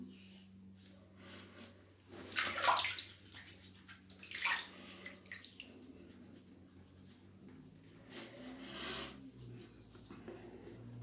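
Water splashes and runs during a rinse after a safety razor shave, faint intermittent sloshing with a couple of louder splashing bursts, close by, no talk.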